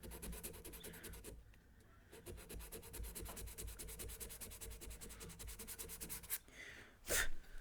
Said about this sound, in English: I'm going to cover the sandpaper and smooth it